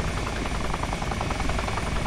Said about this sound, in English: Wait, your helicopter's like really low.